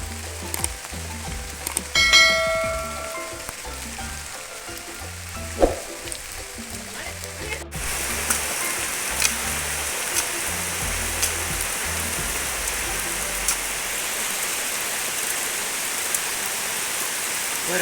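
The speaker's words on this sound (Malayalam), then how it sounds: "നല്ല മഴ പെയ്യുന്നുണ്ട്." Heavy rain falling steadily on a farm where coconut trees are being tended, a dense even hiss that grows louder partway through after some faint handling knocks.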